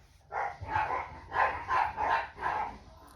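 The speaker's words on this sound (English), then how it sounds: "I have 4 dogs, 3 Yorkies and a Boston Terrier. They're pretty loud." Three Yorkies and a Boston Terrier bark: about six sharp, fairly close barks in an irregular rhythm, loud over a quiet room, with no talking.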